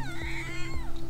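A cat on Koh Phi Phi island meows in a short, close, drawn-out call with a rising and falling tone, set against steady low background noise.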